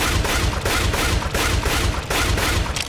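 Rapid, loud automatic rifle fire from an AK in the Counter-Strike video game, shots bursting in quick regular clusters across the whole stretch with no pause.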